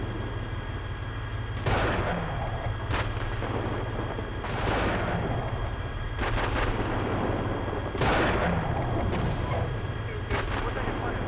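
Incoming gunfire and heavy reports striking in loud bursts every couple of seconds, each leaving a rumbling tail over a steady low background hum.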